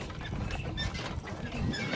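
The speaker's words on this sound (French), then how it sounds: "C'est bien sympa ce petit cheval." A small horse's hooves clop at a slow walking pace over a rustling, noisy outdoor background in community gardens.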